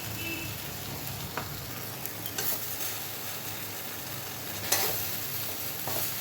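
Tender pumpkin greens stirred into red lentils in a pan, a steady soft sizzle with occasional scraping stirs and clicks, no voices.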